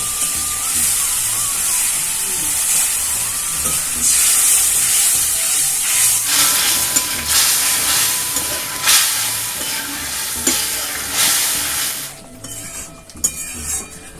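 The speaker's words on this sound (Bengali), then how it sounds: "জল দিয়ে ভালোভাবে কষিয়ে নেব আর একটু জল দিয়ে নিচ্ছি" Spice paste with meat masala being cooked down in a pan with added water for a tangy fish curry, giving a steady loud hiss and steamy sizzle with occasional stirring scrapes, softening near the end.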